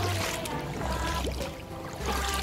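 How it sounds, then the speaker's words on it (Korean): Gentle flowing water with soft trickling and splashing, fairly close, accompanied by low rumbling noise and no talking. "물소리 진짜 오랜만에 듣는다. 물소리 진짜 좋죠?"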